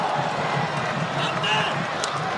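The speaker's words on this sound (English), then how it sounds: "Crowd enjoying that" A crowd at a San Antonio FC versus Oakland Roots soccer match roars and cheers steadily in the stadium, with a broadcast commentator talking over the noise.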